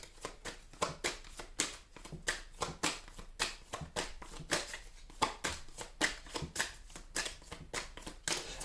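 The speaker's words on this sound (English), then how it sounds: "Let me go ahead and take a card from the deck right quick." A tarot card deck is shuffled in a quick run of crisp, riffling flutters and soft slaps repeating close to the microphone, with no one speaking.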